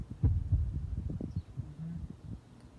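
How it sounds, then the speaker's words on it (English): A heartbeat heard during a Show Must Go On performance, a few low, soft, thudding pulses in a loose rhythm, muffled and fairly close. "Heartbeat."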